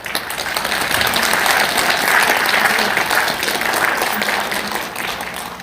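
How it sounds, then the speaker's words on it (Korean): An audience at an indoor forum on COVID-19 vaccine injuries bursts into loud, dense applause that swells and holds steady, with clapping filling the room throughout. "신숙희 박사님께 큰 박수 좀 보내드리십시오"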